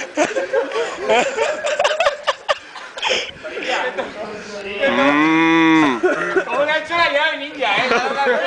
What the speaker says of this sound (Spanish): ¡Ay, la vaca!